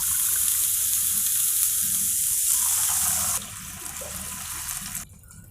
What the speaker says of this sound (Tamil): ஸோ இதால் இப்போ 3 கப்பு தண்ணி விடுறேன்.